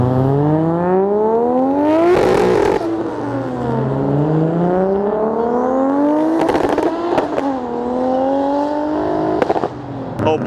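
A Nissan 350Z engine in the Forza racing game revs up and down repeatedly, its rising and falling whine loud and close, punctuated by short crackling bursts between throttle sweeps.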